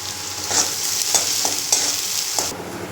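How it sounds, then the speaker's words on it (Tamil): Steady sizzling and frying of curry leaves in a hot pan, with a few louder scraping stirs spaced through the clip; no voices. "கருவேப்பிலை போட்டு நல்லா வதக்கிடலாம்."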